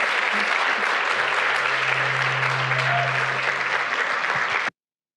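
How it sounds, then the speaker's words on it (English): An audience at a celebration event applauds in a steady, dense burst of clapping that lasts about five seconds and then cuts off abruptly. "let's give them another round of applause and thank them for their time"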